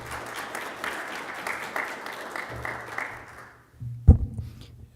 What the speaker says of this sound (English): If you could join me in giving a quick round of applause for Dr.